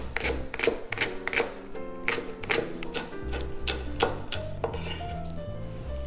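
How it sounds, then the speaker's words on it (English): A knife slicing scallions (green onions) thin on a cutting board gives a quick series of close, sharp chopping taps, steady and rhythmic over a faint tonal background hum, no voices. "cut it down the middle like so, and just slice them thin"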